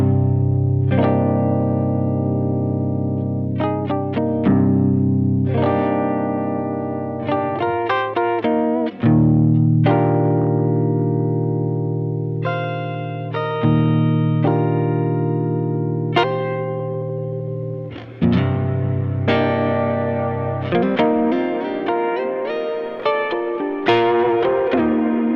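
Guitar played through a Line 6 DL4 delay pedal, ringing chords and notes smeared with echo, chorus-like shimmer and some grit, loud and continuous with no voices.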